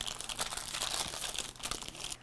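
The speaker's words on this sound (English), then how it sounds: "I'm going to crumple it up." A sheet of parchment being crumpled by hand to line a pie pan before adding pie weights of beans, a close, continuous crinkling and rustling with no talk.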